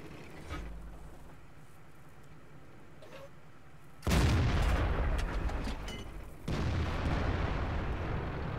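Two heavy tank cannon shots in World of Tanks boom out loudly a couple of seconds apart, each followed by a rumbling tail, against quieter battle ambience before them.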